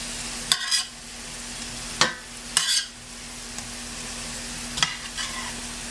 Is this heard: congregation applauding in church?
no